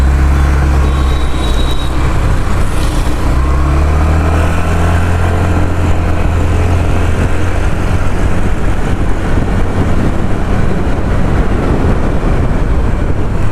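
A 2025 Honda Activa 125 scooter rides across a road with a loud, steady engine drone and rushing wind noise that hold throughout, recorded from on the moving scooter.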